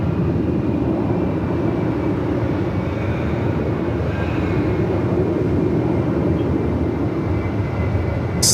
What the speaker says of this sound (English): Jetstar 33 is the next inbound coming in from Cairns. It's a 321 Neo.